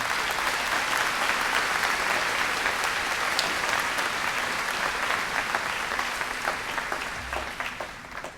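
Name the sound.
audience applause at high school commencement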